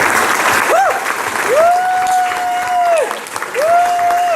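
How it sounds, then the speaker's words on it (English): Loud, close crowd applause and cheering at a birthday party, a dense round of clapping with sustained whoops and voices riding over it. "Let's have a round of applause for my niece and my mom. Standing ovation."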